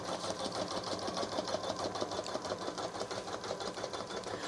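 Janome Memory Craft 1000 embroidery machine running a satin stitch around a donut-glaze design, a steady close rhythmic needle chatter with fast regular beats and no talking.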